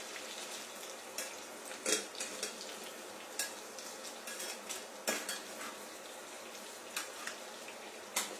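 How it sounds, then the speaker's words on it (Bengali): Paneer cubes frying in a pan while being turned, giving a steady close sizzle broken by sharp clinks and scrapes of a utensil against the pan; no voices. "পনিরটা আমার অলমোস্ট ভাজা হয়ে গেছে, জাস্ট একটু দুপিটটা লাল লাল করে আমি ভেজে নিলাম।"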